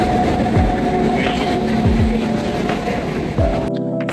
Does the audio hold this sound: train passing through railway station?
yes